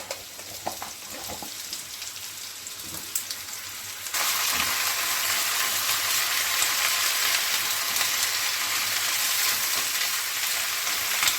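Spiny gourd pieces hit a little hot oil and burst into a loud, steady, close sizzle that holds without a break after a few quieter clinks of cooking before it.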